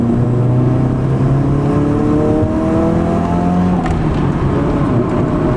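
A Nissan S13 turbo engine revs hard up close, its loud, continuous tone climbing and falling in pitch through a series of rising sweeps with no pauses.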